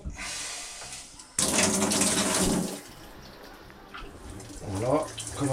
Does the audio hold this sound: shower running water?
yes